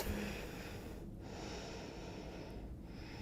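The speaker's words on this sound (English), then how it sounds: "Take a minute to breathe." Soft, close breathing during a yoga rest in child's pose: slow inhales and exhales with a couple of brief pauses, quiet and alone.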